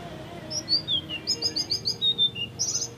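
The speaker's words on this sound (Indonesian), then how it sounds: "Jika burung kita piara bunyi atau berkicau, hati kita terasa senang." A caged selendang biru (citrine) songbird sings a lively run of bright, high whistled notes and rapid chirping trills, close and clear over faint background noise.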